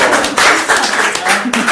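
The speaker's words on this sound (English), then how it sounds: "Give a round of applause." An improv podcast audience gives a round of applause after a timed game, a dense, steady patter of clapping running throughout with voices mixed in.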